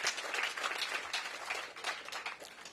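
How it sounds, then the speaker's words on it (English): An audience claps at a DC mayoral announcement on affordable housing. The applause is steady and moderate throughout, with no voices on top. "You can clap for that."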